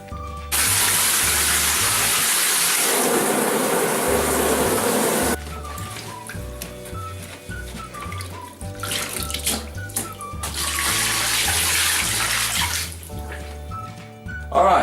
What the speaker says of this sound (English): we're going to take this to the bath now, and we're going to sort of blast this, rinse it off